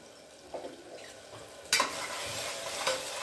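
Tomato and salt stirred through a pan of cooking vegetables for stuffed brinjal and potato curry: soft scraping strokes over a low sizzle, louder from midway with steady frying hiss, no talk.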